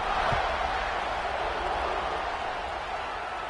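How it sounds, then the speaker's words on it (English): A football stadium crowd buzzes after a score, a steady loud roar of many voices sustained throughout with no distinct cheers standing out. "this crowd is buzzing after that last score"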